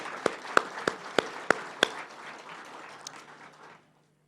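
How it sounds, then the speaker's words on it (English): A small group of people clapping for community award winners, a handful of sharp, distinct claps at first, then softer scattered applause fading out to silence. "let's give them a round of applause"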